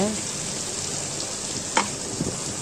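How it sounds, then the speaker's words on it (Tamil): A ground paste of coconut, small shallots and cumin fries in a pan, producing a continuous close sizzle with a brief sharp clink partway through. "நம்ம அரைச்சி வச்சுருக்கல தேங்காய், சின்ன வெங்காயம், சீரகம், அது இப்போ அதில் போட்டுக்குங்க."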